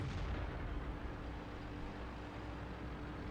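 A tank cannon fires in World of Tanks, a heavy booming blast whose low rumble carries on steadily through the whole stretch with no talking.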